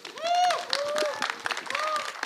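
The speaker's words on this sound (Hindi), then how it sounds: "इनके लिए बहुत सारी तालियां होनी चाहिए." Crowd at the Jatt & Juliet 3 trailer launch clapping for Diljit Dosanjh and Neeru Bajwa, with loud drawn-out whoops and cheering voices rising over patchy applause.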